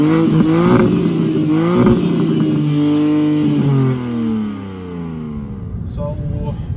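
A BMW G80 M3 Competition accelerates hard. The engine note climbs through rising sweeps with brief breaks at the gear changes, loud and close, then falls away to a lower idle while a voice talks over it.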